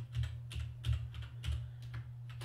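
Quiet, rapid clicking of a computer keyboard while Java code is entered, keystrokes arriving in a steady irregular patter over a low electrical hum, no speech.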